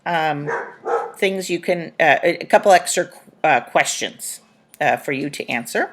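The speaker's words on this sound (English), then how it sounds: "if you hear barking in the background, that's Louie and Luna" Dogs Louie and Luna, along with a small yappy dog named Tippy, bark in the background beneath steady nearby talking that fills the whole stretch.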